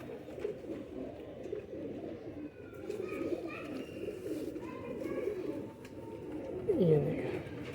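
Young pigeons cooing in a loft, soft repeated throaty coos at moderate distance over a low background murmur, with a few brief chirps and a short louder flutter near the end.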